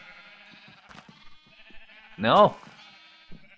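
A Minecraft sheep lets out one loud, close bleat partway through, set against quiet game ambience with a voice talking faintly around it.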